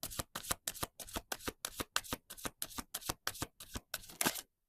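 A deck of oracle cards is riffled again and again in a steady, even rhythm of about a dozen crisp, close bursts, then stops abruptly.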